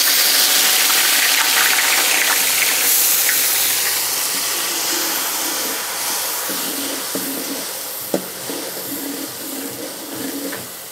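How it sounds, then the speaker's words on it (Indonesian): Coarsely chopped onions sauté in a pan for a Malay sambal belada, giving a steady broadband sizzle and hiss that slowly fades, with a few faint scrapes and one brief clack near the end, and no talking. "Kita tumis bawang besar yang lebih kasar."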